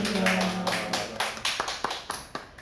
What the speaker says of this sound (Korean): 우리 박수 쳐드릴까요?